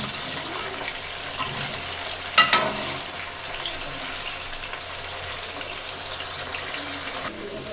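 Chicken frying in a pan over high heat as part of making milk korma, a steady quiet sizzle with a brief clatter of stirring near the middle.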